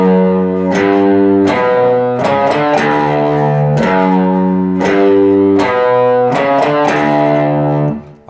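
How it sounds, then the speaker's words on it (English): Distorted electric guitar on the rear humbucking pickup through a Tube Screamer with drive set low, doubling a bass line in a rock chorus: thick sustained power notes changing every bar or so, loud and continuous with no talking. "I went to the rear pickup, humbucking on this guitar. I added a tube screamer with the knobs set at just about at 2 on the distortion."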